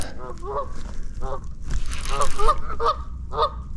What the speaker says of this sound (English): Boy, them geese or something else, ain't they?